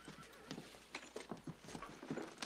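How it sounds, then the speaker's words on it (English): A horse stands outside, its hooves clip-clopping in a steady, close rhythm on hard ground, with a brief whinny mixed in. "The horse is outside."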